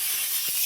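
A pressure cooker vents steam in a short, loud, steady hiss, alone and close.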